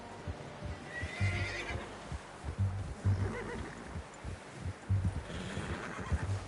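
A horse neighs in the video game Red Dead Redemption 2, with repeated whinnies over steady hoof clip-clop and rumbling game ambience at moderate loudness.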